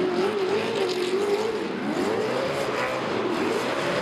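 A Nissan S15 drift car accelerates hard at a D1NZ drift championship round at Baypark Stadium. The engine holds a loud, sustained roar with wavering pitch as the revs rise and fall, and a race commentator can be heard faintly.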